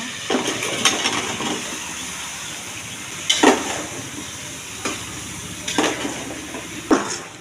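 Chopped bottle gourd goes into a pan of frying spices with prawns and green chillies for a Bengali lau chingri. A few sharp clattering knocks and scrapes stand out over a low, steady sizzle, with no talking.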